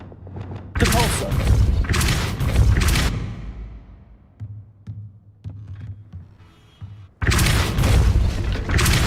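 A Depulso spell goes off in a Harry Potter video game as a loud booming blast with a deep throbbing rumble, followed by quieter thuds and another heavy burst near the end.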